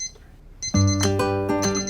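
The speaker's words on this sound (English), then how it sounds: "What's that noise? Oh, it's my alarm clock." An alarm clock rings with a bright, tonal electronic melody of repeated notes, loud and close, alone in the scene.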